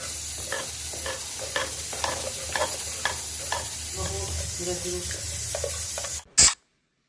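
Steady sizzling of garlic and cumin frying in hot ghee, with a few stirring scrapes and brief speech mid-way, ending in a sharp clatter.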